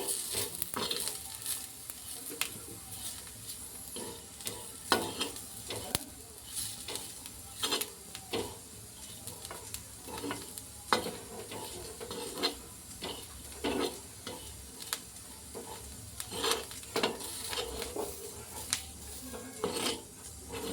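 A pan sizzles steadily as spice masala with coriander powder dry-roasts, while a spoon scrapes and stirs in quick, irregular strokes, with occasional clinks of metal, close up and without talk.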